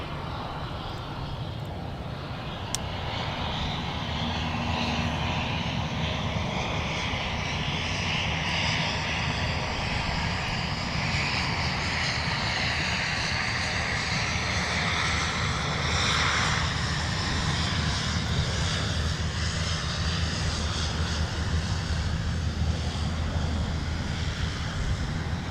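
Jet airliner taking off from runway 17 at Minneapolis–St. Paul airport, a loud continuous engine roar with broad rumble and wind-like hiss sustained throughout, building steadily without pause.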